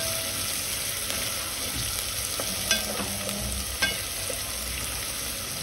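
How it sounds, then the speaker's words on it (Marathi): Chopped onion sautés in hot oil with cumin in a pan, a steady close sizzle with a few stirring scrapes and knocks, no talking. "कांदा चांगला तेलामध्ये परतून घ्यायचा आहे।"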